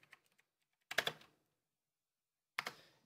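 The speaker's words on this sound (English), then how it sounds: "Type in Razer." Bursts of rapid typing on a Razer BlackWidow mechanical computer keyboard, two short close-up flurries of key clicks separated by a pause, with a few faint taps at the start.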